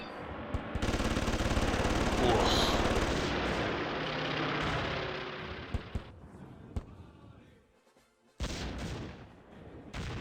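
Aircraft machine guns in a Battle of Britain air combat game strafe an airfield held by Hurricanes, a dense continuous roar of rapid gunfire and impacts lasting several seconds, then scattered sharp bursts, a brief near-silence, and a final loud burst.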